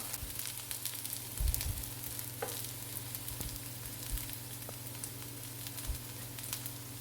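Potato kebabs fry in hot oil on a stove, giving a steady bubbling sizzle with a few soft clinks and taps from a utensil, moderately close and with no voices.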